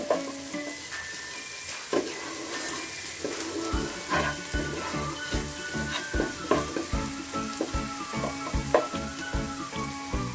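Spice paste frying in a pan until light brown for an achari chicken roast, a steady sizzle with rhythmic stirring and scraping clinks close by.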